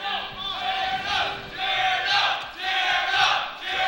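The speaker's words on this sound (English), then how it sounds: "Crowd is losing it. They're rooting for Edgar." Tournament crowd at a Super Smash Bros. Melee match roaring and cheering in surging waves, loud and dense with shouting voices swelling and dipping several times.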